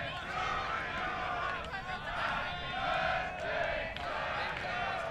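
Crowd at a U19 mixed ultimate frisbee match singing happy birthday, a group of voices in a loose sung melody rising and falling over a noisy outdoor field background.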